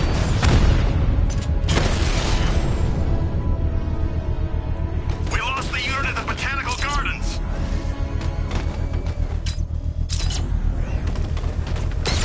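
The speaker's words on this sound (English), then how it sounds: "I can use the power winch to trigger a controlled explosion." Controlled bomb detonation in the Batman: Arkham Knight game, heard as a sharp, heavy burst at the start followed by crackling blasts and rumble, with voices talking over the noise throughout.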